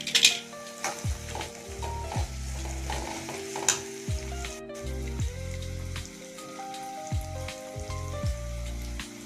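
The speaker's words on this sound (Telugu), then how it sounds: "చిన్న బంగాళదుంప, అలాగే పచ్చిమిర్చి చీలికలు ఒక 2, అల్లం వెల్లుల్లి పేస్ట్ కొంచెం బాగా ఇప్పుడు కలుపుకుందాం." Small potato, slit green chillies and ginger-garlic paste are stirred in a hot pan for capsicum rice, with a steady sizzle under repeated scraping strokes of a utensil against the pan, close and fairly loud, no talking.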